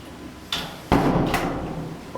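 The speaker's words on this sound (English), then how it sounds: "that's the door to exit. So if I close it," An exit door in an Airbnb room in Cali, Colombia swings shut with a light knock and then a firm, close thud, followed by a brief rattle of the latch.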